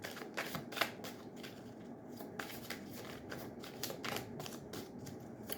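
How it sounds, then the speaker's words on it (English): Tarot cards are shuffled by hand in a reading, a close, fast run of papery riffles and flicks repeating through the whole stretch with a steady rhythm and no voice. "let's pull some cards for the masculine"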